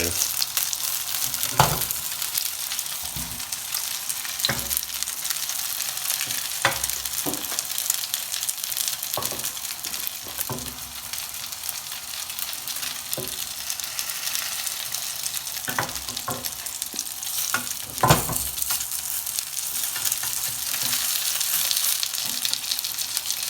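Pork gyoza dumplings pan-frying in a hot pan, a steady bright sizzle running throughout with scattered sharp crackles and pops, close and fairly loud, with no talking.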